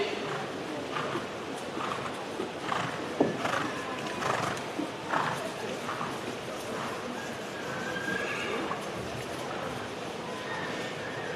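A big, chunky stallion moves about a horse sale ring at an auction, giving whinnies and clopping hooves amid crowd noise, with an auctioneer's voice talking over it.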